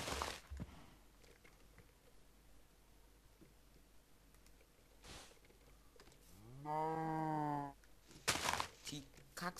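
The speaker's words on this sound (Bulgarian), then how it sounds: "Абе, това е крава Тарзан" A cow moos once inside a Minecraft-style survival game, a long drawn-out tonal call of about a second in the middle of quiet game ambience, thumps and clicks, with a sharp knock before and after.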